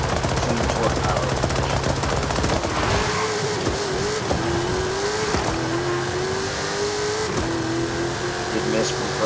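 A car engine in Forza Horizon 5 revs high past its shift point, its tone climbing steadily in several rising sweeps broken by brief drops at each gear change, loud and continuous with steady road noise underneath.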